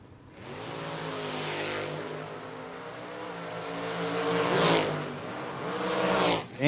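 Drag race cars, a turquoise Chevrolet S10 and a battleship gray hot rod, roar down the strip at full throttle, engines building in a loud sustained howl that swells and fades as they pull away toward the top end.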